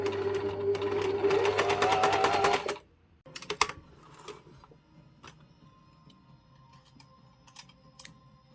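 A home sewing machine runs a steady fast stitch along the middle seam of a pair of pants, loud and continuous for nearly three seconds, then stops, leaving faint clicks and handling noises.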